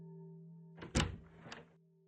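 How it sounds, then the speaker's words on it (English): A door opens in the visual novel Chaos;Child: a short, heavy thunk followed by a brief rattling slide, heard over a low steady hum. "Saw Kazuki nod, then took a deep breath and opened the door."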